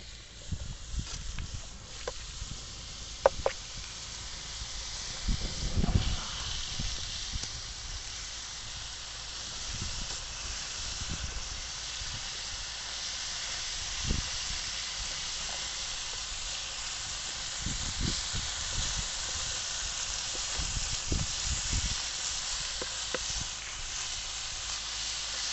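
Chicken pieces sizzle and hiss steadily in hot oil with garlic in an open pan, a continuous bright frying crackle with occasional utensil knocks and stirring sounds.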